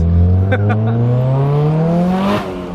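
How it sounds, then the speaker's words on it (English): A Nissan Silvia S15 with a screamer pipe exhaust accelerates hard, its engine note climbing steadily in a loud, raspy, close-up drone, then dropping sharply at a gear change near the end. "you hear that screamer pipe again and it sounds mental"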